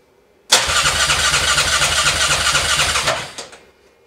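A Grizzly ATV engine cranks and catches, settling into a loud, steady, close-up running rumble for about two and a half seconds before cutting off abruptly.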